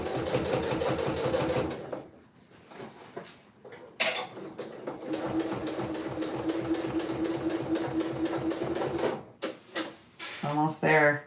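A sewing machine stitches in long continuous runs with a steady mechanical whir, pausing briefly before starting again, and someone talks between and over the bursts.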